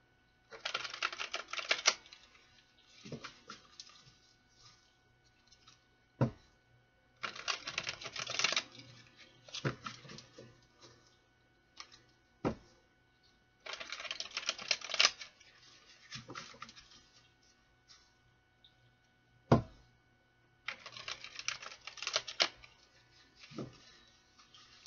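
Tarot cards being shuffled in several crisp bursts, each a rapid riffling patter a few seconds long, close and fairly loud, with brief sharp taps and quiet pauses between bursts; no one speaks.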